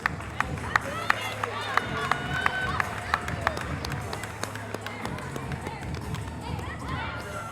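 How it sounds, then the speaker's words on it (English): At the 2019 Cleveland Classic boxing event, a crowd applauds the boxers with dense, scattered clapping that fills the hall, while a voice talks over it. "Again, let's give a round of applause to these outstanding athletes."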